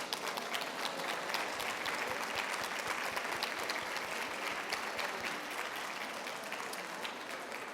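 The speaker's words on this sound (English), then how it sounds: "Let's give them a round of applause." Sustained applause from a large audience, steady dense clapping filling the whole stretch with no voices standing out.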